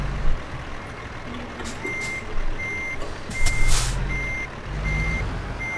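A truck backing up a trailer in the American Truck Simulator video game gives off evenly spaced reversing beeps over a low engine rumble, with the occasional hiss of an air brake.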